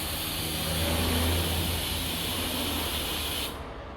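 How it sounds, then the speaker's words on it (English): Brake cleaner is sprayed into fuel lines for a custom tank setup on a blown HQ one-tonner, a loud, steady aerosol hiss lasting several seconds before it abruptly stops. "I'm just going to use some brake cleaner. Get some brake cleaner down."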